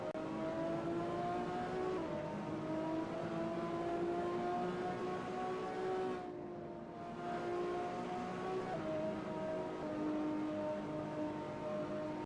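A race car in the SimSpeed Sport Cup video game driving through Clubhouse Bend, a steady engine drone with a slowly wavering pitch and a short dip midway, sustained and unaccompanied by voices.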